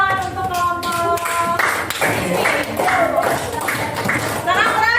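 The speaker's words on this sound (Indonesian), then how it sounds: "tepuk tangan untuk kelompok" A group in a classroom claps in bursts of applause, close and lively, with voices talking over the clapping throughout.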